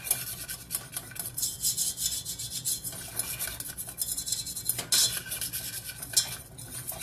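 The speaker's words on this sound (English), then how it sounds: "Okay, so we're going to stir our butter." A metal whisk scrapes and clinks around a heated pan, stirring a stick of butter with a quarter cup of cocoa. The rasping is close and continuous, with uneven strokes and no talking.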